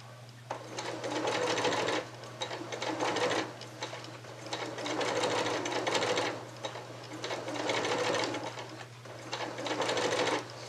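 Sewing machine stitching a curved quilt seam: close, fairly quiet mechanical whirring in several bursts of about one and a half to two seconds, separated by short pauses, over a constant low electrical hum.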